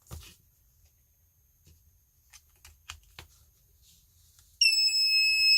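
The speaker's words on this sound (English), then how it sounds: "that beep that we were warned about when it turns on" An Arduino night light gives a single sharp electronic beep on being powered on, loud and sustained at the end after a few quiet clicks and handling noises.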